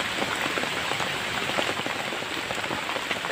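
Steady rain patters densely on surfaces beside a fishing spot, a constant close hiss of drops with no pauses or voices.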